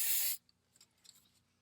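Aerosol spray on a car brake hub while front brake pads and rotors are replaced: one loud, steady hiss for about a third of a second, then cut off, followed by faint handling clicks.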